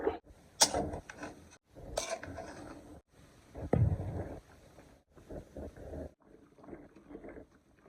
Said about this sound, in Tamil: அதுக்கப்புறம் தண்ணி நல்லா சூடாகி நல்லா கொதிக்க ஆரம்பிச்சிச்சு